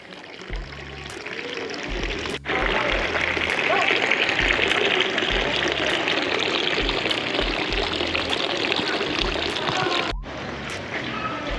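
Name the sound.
fresh water running from a fountain in Lucerne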